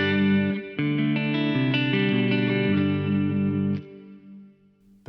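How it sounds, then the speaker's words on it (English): Electric guitar played through the dark, high-cut reverb of a Mooer GE300 Lite: a few strummed chords ring out in succession, close and full, then trail off into a soft reverb tail. "I kind of like that these reverbs are voiced a little bit darker by default"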